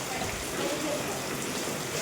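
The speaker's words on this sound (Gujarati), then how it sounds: "અત્યારે ભાઈ વરસાદ થોડોક છે ને ભાઈ વધી ગયો છે" Heavy rain in a village falls as a steady, dense hiss, with water running off the roof edges.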